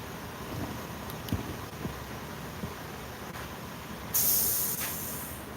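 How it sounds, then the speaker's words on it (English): Movie Paint nicotine staining spray hisses from a can in a brief, fairly close burst near the end, after a low, quiet background hum. "So when I spray it, it's nicotine spray."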